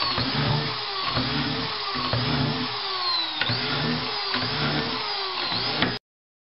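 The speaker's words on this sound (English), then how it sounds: "And drill our set of holes again." A power drill bores binding mounting holes into a race ski through a jig, whining up in repeated close passes of roughly a second each, with bites into the ski, then cutting off abruptly.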